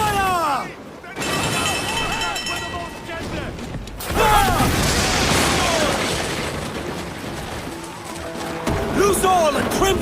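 Broadside of ship cannons firing in Assassin's Creed Black Flag, a broad burst of booms and rumbling blasts over creaking ship mechanisms, with crew voices shouting amid the noise.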